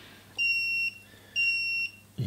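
A UNI-T UT505A insulation tester gives two steady, shrill electronic beeps as a test starts. Each beep lasts about half a second, with a short gap between them, and they sound close and clear against a quiet room.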